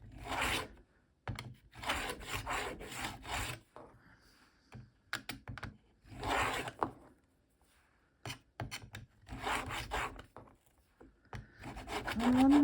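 A blade slices through thick felt in repeated rough scraping bursts, each stroke rasping for a second or two with short pauses between, close and fairly loud with no talking.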